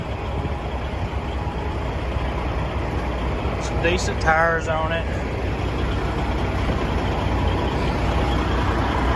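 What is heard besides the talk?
old Volvo truck engine idling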